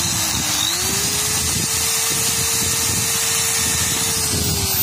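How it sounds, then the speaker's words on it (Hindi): A power drill bores a hole through an aluminium angle for a sliding window frame, a loud steady whine with a sustained motor hum throughout. "किस तरीके से निशान पर ड्रिलिंग की जा रही है,"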